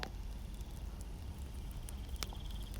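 Heavy rain falls at night in a continuous dense patter, loud and unbroken for the whole stretch, with a few sharper ticks of drops and no voices.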